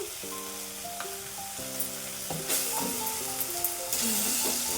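Soy chunks frying for tomato rice in a home kitchen pan: a steady close sizzle and hiss with occasional stirring scrapes, under sustained tonal music.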